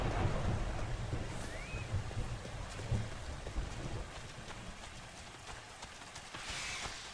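Rain in the video game Final Fantasy XIV: steady, fairly quiet patter and hiss of rainfall running throughout with no voices.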